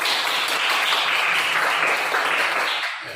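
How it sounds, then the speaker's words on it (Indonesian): Applause from a group of schoolchildren in a classroom, a steady dense wash of clapping that fills the clip and fades slightly at the end. "Tepuk tangan."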